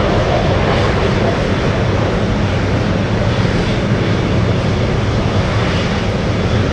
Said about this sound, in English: we have the Dreamlifter coming in, lands a little after 11 p.m. local time